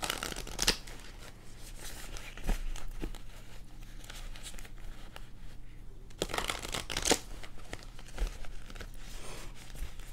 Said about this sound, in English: And I'm going to shuffle from here and then I'm done.